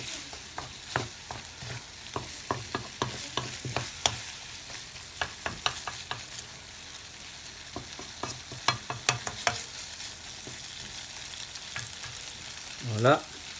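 Chinese noodles with shrimp, chicken, soy sauce and harissa frying in a pan, a steady sizzle with repeated sharp scraping stir strokes throughout and a brief louder clatter at the end.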